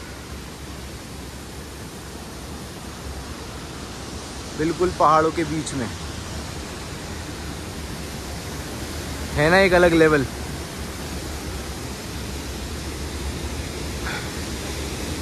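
Steady roar of the Jhari Pani waterfall deep in the hills near Mussoorie, a constant wash of falling water running throughout, with someone talking over it in two short bursts.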